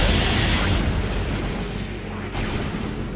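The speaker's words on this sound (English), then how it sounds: "Lay a power bomb on the other side, by the way, not right there." A power bomb detonates in Metroid Prime, a loud sustained booming blast with a deep rumble that fills the whole moment, with a second surge of energy partway through.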